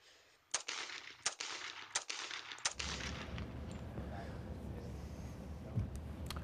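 Handgun shots firing exploding hollow point rounds, four or five sharp loud cracks spaced about a second apart, followed by a steady rumbling background.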